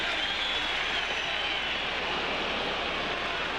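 A baseball stadium crowd at a 2002 Red Sox game roars in a steady, dense wash of cheering and noise, loud and sustained without a break.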